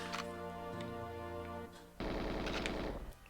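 Rapid bursts of automatic gunfire in GoldenEye 007, a fast metallic rattle that steps up louder partway through and cuts off near the end, with no voices.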